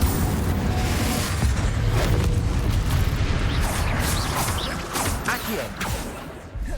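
Confringo spell explosion in the video game Hogwarts Legacy, a loud, dense rumbling blast with crashing debris and whooshing bursts that keeps roaring for several seconds before easing slightly.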